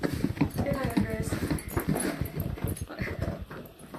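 Andreas, a dog who trained as a guide dog and was career-changed for bad knees, whimpers and yips in short, close bursts beside people talking and soft clattering.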